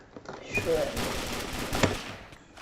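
Rapid automatic gunfire from a zombie-invasion video game crackles in bursts through the clip, moderately loud, with a sharper shot near the end.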